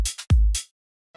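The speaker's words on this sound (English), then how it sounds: "So the next thing we have is like this clap / snare, which sounds like this." A layered clap and snare sample in an electronic track, a few sharp, punchy hits close up, the middle one fuller with a low thump, then silence.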